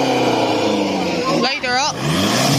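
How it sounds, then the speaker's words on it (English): A car at a Portrush car cruise revving its engine, a loud, close roar rising and falling quickly amid crowd noise. "Give us a rev."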